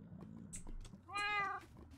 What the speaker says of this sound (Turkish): Kedim miyavlama sesi geliyor.